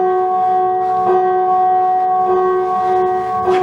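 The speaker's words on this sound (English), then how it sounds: "The bell invites me." A bell tolls in a stage production of Macbeth, a sustained ringing tone with repeated soft strikes about every second, loud and resonant with no voices over it.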